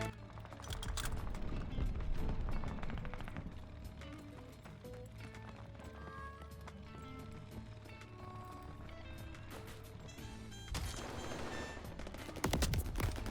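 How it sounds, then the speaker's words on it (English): Gunfire in the Call of Duty Vanguard video game, with a busy mix of shots, footsteps and game effects running throughout, rather faint overall and rising in a few louder bursts near the end. "I got shot through the window."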